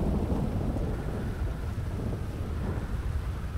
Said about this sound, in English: Thunderstorm's late as hell.